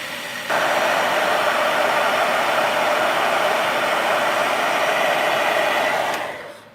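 Hair dryer blowing steadily on a wet watercolor painting of a jellyfish, a loud close continuous whoosh running several seconds before cutting off.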